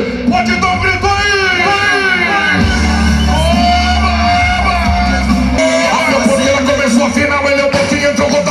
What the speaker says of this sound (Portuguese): quem tá gostando e gosta do grande rodeio, pode dar um grito aí